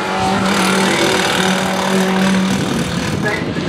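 Saloon cars racing at a circuit, a Ford Sierra XR4 and a Citroën Saxo among them, engines droning and revving loudly close by while someone talks continuously over the noise.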